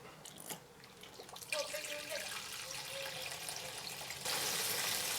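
Water rushes and gurgles through the heater valve of a Lotus Elan M100, a continuous splashing flow that grows louder toward the end.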